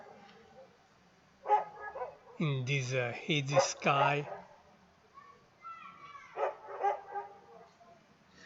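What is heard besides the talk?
dogs barking outdoors at night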